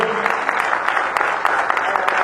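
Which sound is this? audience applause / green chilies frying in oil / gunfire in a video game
audience applause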